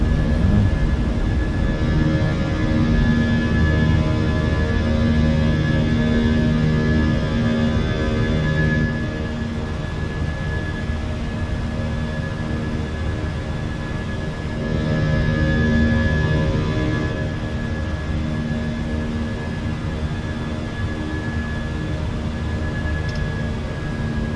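Fenix A320 airliner in a flight simulator climbing just after takeoff, a steady loud engine roar with a high whine running throughout, even and continuous, with no voices.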